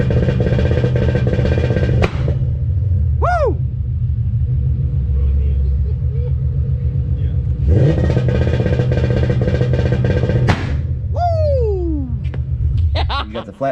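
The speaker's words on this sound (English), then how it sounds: "just installed a two-step on this, so we're going to let y'all hear it" A Ford Coyote V8 on a two-step launch limiter drones loudly and steadily throughout, with rhythmic limiter rumble and brief rev changes around the middle and near the end.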